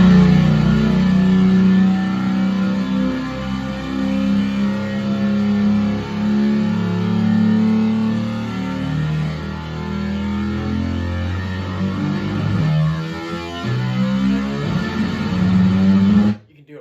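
A fretless bass guitar played through a pedal rig imitates a car engine, with sliding low notes that growl and rise and fall like revving for about sixteen seconds.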